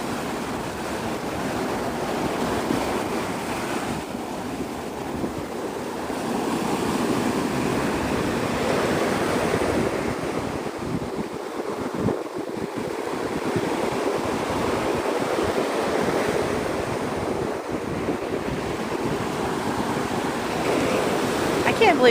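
Ocean waves and surf rolling onto Navarre Beach, a loud, continuous wash of breaking water mixed with gusting wind noise against the microphone.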